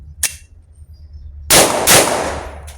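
An Umarex Glock 17 Gen5 blank pistol is test fired close up. A sharp metallic click comes first, then two loud, harsh bangs in quick succession.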